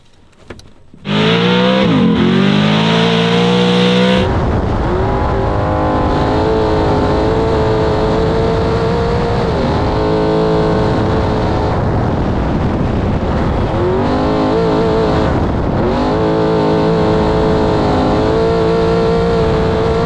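A race car with a straight-cut gearbox being driven at a test track, a loud, close engine roar with rising and falling gear whine through repeated shifts, sustained throughout.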